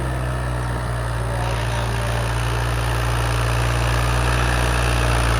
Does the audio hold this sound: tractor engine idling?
yes